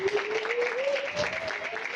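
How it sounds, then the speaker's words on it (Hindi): Congregation clapping at a church welcome ceremony for a pastor and his family, a moderate steady patter heard under a sustained tonal voice or music line throughout. "जोरदार तालियां"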